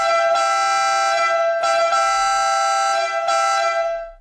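The loud setting of a Citroën DS Town and Country horn blares close and harsh, sounding in three long sustained honks with brief gaps between them.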